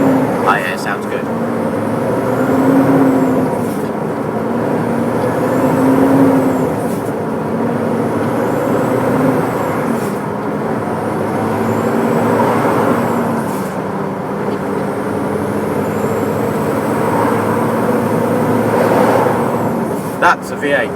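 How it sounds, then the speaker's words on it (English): A smoky V8 diesel vehicle trundles along the road with a steady low engine rumble throughout, heard from a truck cab in port with some cab noise and a faint hiss. "That's a V8."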